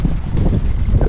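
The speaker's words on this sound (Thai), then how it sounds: "ลมพายุเข้าเลย" Strong storm wind gusts roar across a river around a boat, a dense, loud rushing noise with low rumbling buffets on the microphone, no talking.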